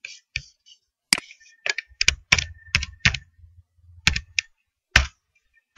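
Computer keyboard keys tapped in uneven bursts of sharp, close clicks with brief pauses, while HTML table code for a PHP and MySQL clinic information system is typed.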